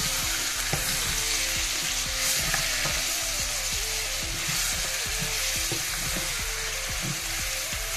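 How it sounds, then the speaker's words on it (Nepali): Ginger garlic paste fries in a hot pan for a Nepali home meal, a constant close sizzle with repeated clinks and scrapes of stirring running throughout, with no voices. "अदुवा लसुनको पेस्ट यो चाहिँ एक चम्चा दुई चम्चा तिन चम्चा हालौँ यसलाई एकछिन चलाइदिउँ"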